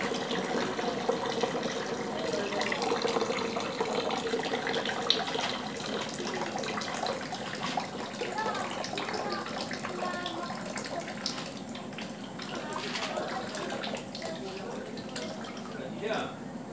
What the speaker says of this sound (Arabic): داك الانبوب باش يتخوى الماء.